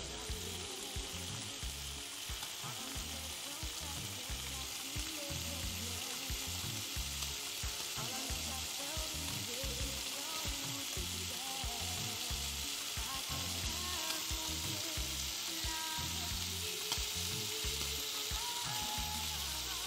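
Lardons frying in a pan give a dense, continuous crackling sizzle, close and even in loudness for the whole stretch, with quick popping textures and no voices.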